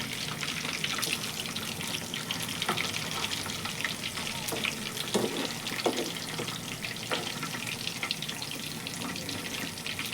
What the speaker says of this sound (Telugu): అలాగా గోల్డెన్ కలర్ బాగా డీప్ ఫ్రై అయ్యే వరకు మాత్రం వేసుకోవాలన్నమాట.